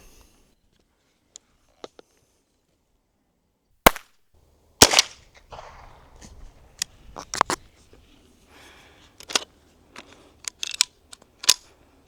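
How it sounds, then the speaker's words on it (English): A .22 Long Rifle is fired outdoors at corn in a farm grain penetration test, with several sharp, dry cracks spaced a second or two apart and some quieter clicks and handling noise between them. "Now for the corn penetration test of the 22 long rifle."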